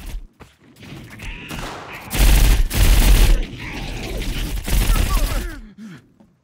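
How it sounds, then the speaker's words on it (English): An automatic weapon fires in the video game Sons Of The Forest in loud, heavy bursts, with other shots and thuds around them and voices talking and reacting in between. "My first time ever using this automatic weapon thing"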